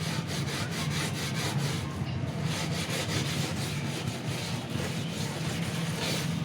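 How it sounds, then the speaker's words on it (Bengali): Steady rubbing and scrubbing on an induction cooktop's glass surface, working off a baked-on film of spattered oil, a continuous gritty friction sound that runs unbroken throughout. "তো এটাকে ভালো করে ঘষে ঘষে তুলে নিতে হয়।"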